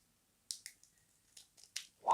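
A few quiet, crisp snips and crinkles, scissors working through a chocolate cookie wrapper, in short irregular bursts ending with a louder rustle.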